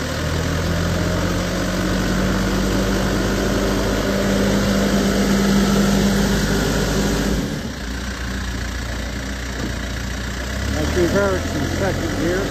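A 2009 Case 580SM Plus II backhoe engine runs steadily with the machine in reverse, second gear, a loud low rumble close by that dips briefly midway, with a person speaking over it.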